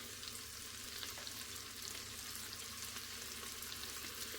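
Chopped onion frying with ginger and garlic in a pot for mixed vegetable dal khichdi, a soft, even sizzle that holds steady throughout at low volume, with no voices.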